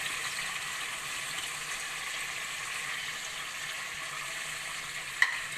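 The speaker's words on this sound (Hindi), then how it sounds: "अब हम इसमें अपना मैरिनेट हुआ हुआ चिकन शामिल करेंगे और ये आधी प्याज अभी इसके अंदर डालेंगे" Marinated chicken and half an onion go into a pot for a chicken biryani, giving a steady, fairly quiet sizzle with light stirring throughout and one brief sharp knock near the end.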